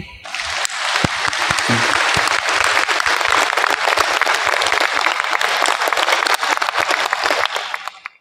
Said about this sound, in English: Please give him a warm round of applause again.